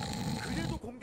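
Someone commentator at an OSL esports tiebreaker imitates a snore with his voice, a wheezy nasal buzz trailing into a thin whistle near the end, up close and brief.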